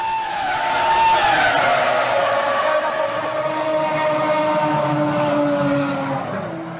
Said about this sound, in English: now Heidfeld suffers a right rear tyre failure